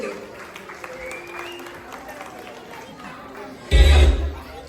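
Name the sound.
audience applause for Malayali Manka contestants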